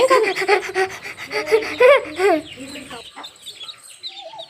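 A mother hen clucks and squawks close by with her newly hatched chicks, loud bursts for about two seconds, then softer peeping and low clucks fading out.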